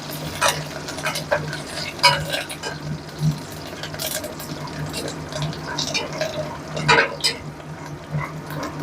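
Onion, garlic, chilli, mustard seeds and cumin fry in hot oil, with an uneven sizzle and frequent stirring scrapes and clinks close by.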